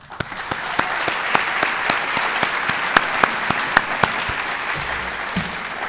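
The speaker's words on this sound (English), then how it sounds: "One more round of applause for all of our new faculty and staff." A convocation audience at Utah Tech University gives a round of applause for new faculty and staff, a broad sustained wash of clapping punctuated by a few loud, sharp nearby claps at a regular rhythm.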